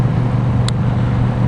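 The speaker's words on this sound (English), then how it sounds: "here we are on another gravel road" A car rolls steadily along a gravel road on a Route 66 drive, a constant low engine and tyre rumble filling the background, with one brief high click partway through.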